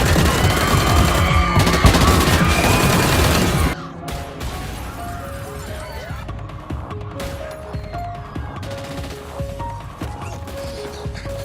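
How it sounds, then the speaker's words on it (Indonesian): Automatic-weapon gunfire from an action film scene, a loud dense barrage at first, then sparser scattered shots and crashes over a musical score. "lalu menembak secara membabi buta ke seluruh orang yang hadir dalam acara itu"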